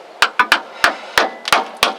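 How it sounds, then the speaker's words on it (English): Sharp metal strikes of a hammer driving a screwdriver against a Ford rear axle cover plate to break it loose, seven quick, loud, close-up raps in an uneven rhythm. "So now I'll take my hammer and screwdriver and I'll go ahead and break this loose"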